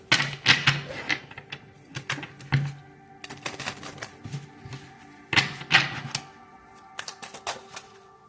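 A new, stiff deck of cards is shuffled in several quick, crackling riffle bursts close by, with short pauses and lighter card-handling clicks between them.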